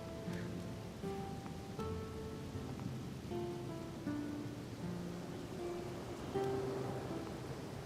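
Rain falling outside in The Legend of Zelda: Skyward Sword on the Wii, an even continuous patter and hiss beneath quiet melodic game music notes, with no one talking.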